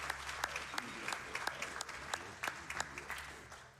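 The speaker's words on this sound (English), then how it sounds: "Yeah, you can clap for that." An audience claps steadily for a few seconds at a live speedrunning marathon event, a lively round of applause with a voice speaking over it.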